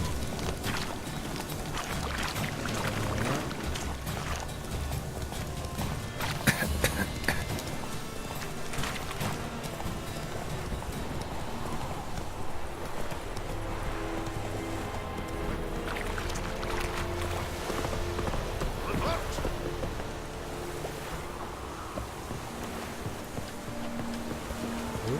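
Hooves of a horse clip-clop in The Witcher 3, a steady trotting rhythm under ambient game sound that runs throughout, moderately loud and without talk.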